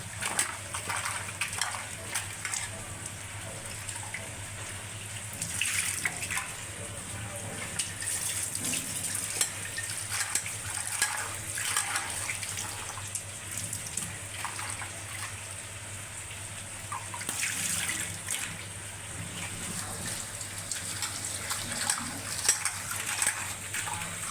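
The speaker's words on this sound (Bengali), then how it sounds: "এদের ভালো মতো ধুয়ে নিতেছে" Coriander leaves are rinsed under a running tap, giving a soft, steady stream of water with intermittent splashy bursts as the leaves are handled.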